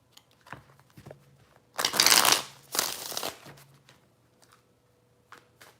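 Tarot cards shuffled by hand in a couple of loud riffling bursts, with a few soft card taps before and after, close and alone without talk.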